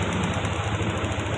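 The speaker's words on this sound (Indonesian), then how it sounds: "Kita nyalakan motor coba ya" Motorcycle engine with a VVA variable valve system running at a steady idle, a continuous close mechanical drone with even rhythm and no voices.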